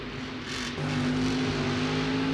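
A monster truck engine during a freestyle run at a monster truck event, a loud sustained drone that steps up in pitch partway through as the throttle opens, continuous and close with no talk.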